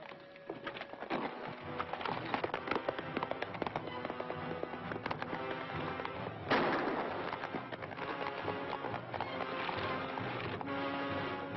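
Gunfire in a western shootout, with repeated sharp cracking shots over clip-clopping horse hooves and a busy rumbling background, loud and near in a dense stretch.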